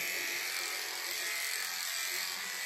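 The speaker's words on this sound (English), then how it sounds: "You clipper down a little bit into the loin area and clipper some of this off." Electric clippers shear hair off a lamb, a steady high buzzing drone held close and continuous without pause, fairly quiet overall.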